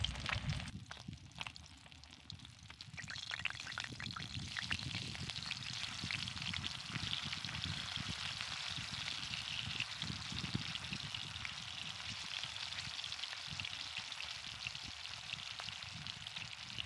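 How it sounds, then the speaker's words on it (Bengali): Fish pieces frying in hot oil for a light fish curry with drumsticks, potato and papaya, a continuous crackling sizzle with a brief dip near the start, steady and close with no talking. "তেলের মধ্যে আমি মাছগুলোকে দিয়ে দিয়েছি এবার মাছগুলোকে আমি ভেজে নেব"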